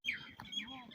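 A few quick, faint pigeon chirps in a brief burst in a village, high and thin, heard close by.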